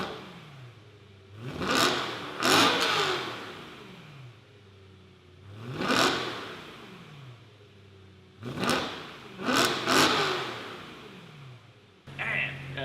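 A BMW E90 M3 with a resonator delete revving its engine, several sharp blips rising and falling in separate bursts with quiet idle between them, loud and close.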